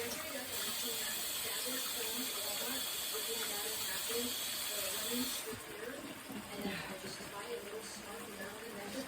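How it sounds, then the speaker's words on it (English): An onion is washed under a running kitchen tap while making bacon goulash, giving a steady hiss of flowing water that drops in level after about five seconds, with a voice talking over it. "Now I gotta wash the onion."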